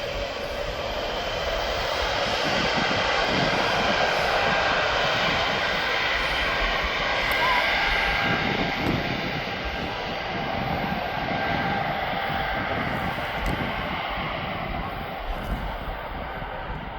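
An airBaltic airliner departs Birmingham for Brussels, its engines producing a steady, broad roar that holds at an even, moderate level for the whole stretch, heard from some distance with no voices.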